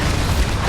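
A Bombarda spell explosion in Hogwarts Legacy, a brief, loud, deep boom with a dense rumbling body, close and alone without any voice.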